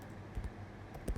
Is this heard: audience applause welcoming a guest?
no